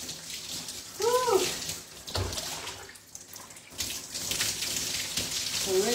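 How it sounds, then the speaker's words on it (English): Warm water runs and splashes steadily while rinsing shampoo out of natural hair on wash day, a close, soft, continuous spray with brief gurgles and shifts in flow. "I'm gonna rinse my hair again with water."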